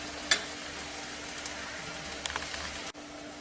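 Drumstick leaf soup seasoned with pepper and salt simmers in a pot, giving a faint, steady bubbling hiss with a few soft pops and a light clink, no voices.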